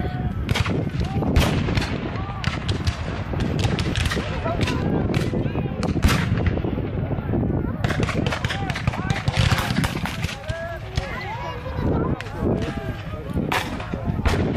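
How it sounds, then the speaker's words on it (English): A Gatling gun at the Brooksville Raid 2016 Civil War reenactment fires rapid, loud cracking reports in dense volleys, mixed with other battle gunfire while a narrator talks over it. "Gatling boys wail away at them."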